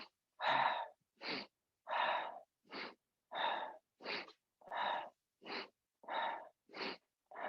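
A group takes slow, regular breaths during a breathing exercise with shoulder rolls, about a dozen audible inhales and exhales alternating in an even rhythm, close and clear against silence.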